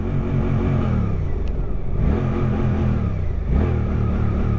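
A Suzuki GSX 8R motorcycle engine revving in neutral against a soft limiter, loud and close, with repeated rises that get cut off and fall back in a pulsing rhythm; no talk.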